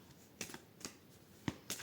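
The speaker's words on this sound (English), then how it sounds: "I'm shuffling, but I'm not pulling cards, just in case." Tarot-style playing cards are shuffled by hand in a few quiet, crisp riffling bursts, spaced irregularly and heard close up with no talking.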